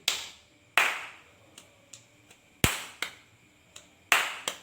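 Hand clapping in a quiet room, a sparse irregular series of sharp claps, some loud and some soft, each ringing out briefly before the next.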